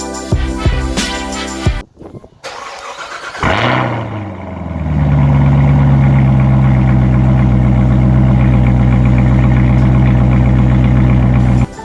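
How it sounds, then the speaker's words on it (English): A 2019 Chevrolet Corvette ZR1 makes a cold start: a few short cranks, a sharp roaring catch-and-rev, then a loud, steady, deep high idle that continues to the end. "Let me go ahead and take this cover off so I can do a cold start for you guys."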